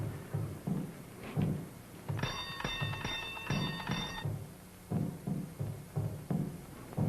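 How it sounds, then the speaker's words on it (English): Doorbell rung at a house in an old classic film: a bright, sustained electric ringing lasts about two seconds in the middle, with muffled footsteps or clopping thuds and low background noise before and after. "You ring the bell."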